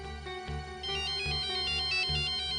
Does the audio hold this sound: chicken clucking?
no